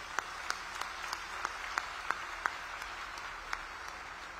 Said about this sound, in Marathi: आपण एकदा सगळ्यांनी हात वर करून या आपल्या पाहुण्यांसाठी टाळ्यांचा कडकडाट करायचा